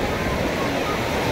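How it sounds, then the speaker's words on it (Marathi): Sea waves roll in at Juhu beach, a steady broadband surf roar close by, mixed with wind buffeting the microphone and no distinct breaks. "हे बघा लाटा कशा येत आहेत"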